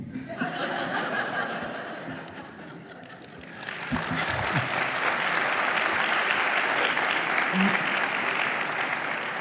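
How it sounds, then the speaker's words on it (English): Applause from a lecture audience at MIT's Compton Lectures, steady and full, swelling louder partway through and continuing to the end, with faint laughter mixed in. "people applaud"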